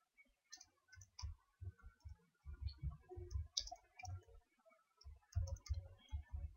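Text is typed on a computer keyboard while working in CorelDRAW, a run of quick, light key clicks in irregular bursts with short pauses, close by and alone.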